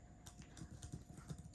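Quiet typing on a Samsung Galaxy Tab S8 Ultra keyboard case, a soft run of irregular key taps close by at low volume.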